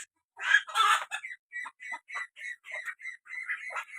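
Village chickens at a rural home in Assam give a quick run of short, clipped clucks, closely spaced and fairly near, with a louder squawk at the start and quiet between calls.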